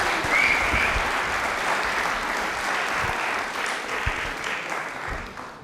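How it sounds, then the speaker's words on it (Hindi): A studio audience on a televised Rajasthani quiz show breaks into sustained, even applause for a contestant, filling the room steadily with no talk over it. "तालियां बजा दीजिए अजय के लिए एक बार"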